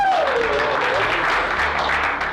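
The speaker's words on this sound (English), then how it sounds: "round of applause for the dev team." A team gives a brief round of applause for its development staff, a short burst of clapping that starts just as a voice trails off and fades slightly by the end.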